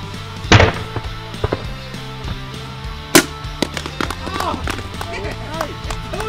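A Xikar five-count travel humidor, the Weekender, dropped 25 feet onto the ground lands with one sharp, loud impact bang, followed by a second crack a few seconds later, with faint knocks and rustling around it.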